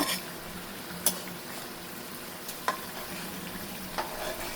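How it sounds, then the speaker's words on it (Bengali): Fish frying in a pan for a Bengali hilsa and prawn curry, a soft steady sizzle with a few sharp clicks and scrapes as the pieces are turned, fairly quiet and close. "এখন আমি মাছগুলো দিয়েছি, একটু উল্টাই দিব।"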